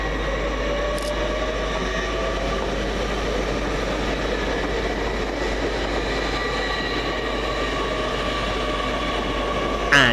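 Great Western Railway class 800 unit 800 021 leaving Reading station on its run from London Paddington to Bristol Temple Meads, a steady heavy rumble and low drone with faint clicking, rising briefly at the end.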